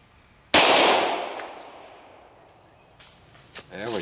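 A single loud, sharp gunshot from a .45-70 derringer fired outdoors, its crack trailing off into a long fading echo, followed by a faint thump and a brief burst of voices.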